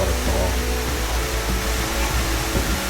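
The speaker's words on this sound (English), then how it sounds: "This is the bigger waterfall." Big waterfall at the bottom of a canyon trail in Cloudland Canyon State Park, a steady, loud broadband roar of falling water that stays constant and close throughout, with no voices over it.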